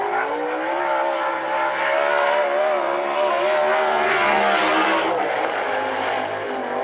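A sprint car screams through a qualifying lap at a fairground track at the Central Washington State Fair, its engine note wavering and swelling as it passes, loud and sustained without talk.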